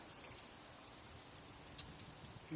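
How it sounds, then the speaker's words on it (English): A frog outdoors gives a shrill, high-pitched trilling call that holds steady and continuous, faint and distant under soft ambient hiss. "Yeah, there's a frog."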